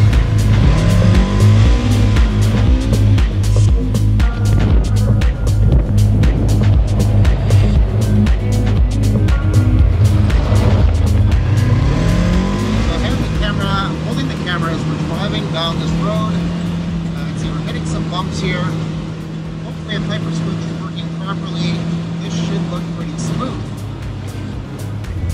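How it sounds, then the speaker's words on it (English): An ATV rides along a bumpy road, its engine revving up and down loudly with a steady motor drone dropping to a lower hum, while someone talks over it throughout. "we're gonna be hopping into our ATV here and taking a little bumpy road ride"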